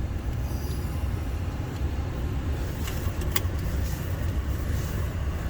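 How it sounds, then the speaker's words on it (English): A 2023 Toyota Tacoma on a test drive with quick acceleration and braking, heard from inside the cab as a steady, loud engine and road rumble, with a few faint clicks near the end. "while I do this test drive, I'm gonna do some quick acceleration, braking"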